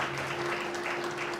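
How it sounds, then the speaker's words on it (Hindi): A church congregation claps its hands in thanks to God, a dense, steady wash of applause filling the short stretch at an even loudness, with a faint sustained tone underneath. "क्यों ना ताली बजाकर परमेश्वर का धन्यवाद करें"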